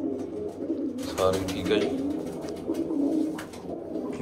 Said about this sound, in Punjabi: ਆਪਣੇ ਬੈਠੇ ਜੀ ਵੱਡੇ ਕਬੂਤਰ